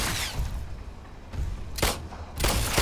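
Gunfire from the PS VR shooter game The Brookhaven Experiment: several loud broadband shots and bursts at irregular intervals over a steady game backdrop, with no talking.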